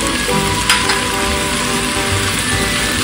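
Kemangi basil goes into a pan of tofu for a Kalimantan-style vegetarian dish, and the pan sizzles loudly and continuously, with a brief stirring scrape.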